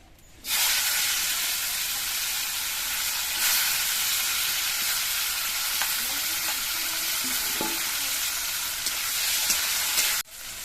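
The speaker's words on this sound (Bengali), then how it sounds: "এবার এর মধ্যে দিয়ে আমি উচ্ছেগুলো ভেজে নিচ্ছি" Bitter gourd hits hot mustard oil in a wok and sizzles loudly and continuously for several seconds, a close, steady frying hiss with faint stirring clicks, then the sound cuts off abruptly.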